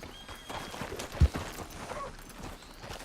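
A horse's hooves clip-clop softly in the open-world western game Red Dead Redemption 2, a loose uneven patter with one sharper thud near the middle, set under ambient game sound.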